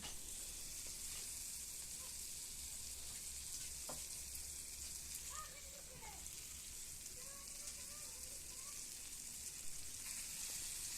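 Ginger, turmeric and chili powder sautéing in a pan for paneer curry, giving a steady, close sizzle and frying hiss throughout with a few faint stirring scrapes.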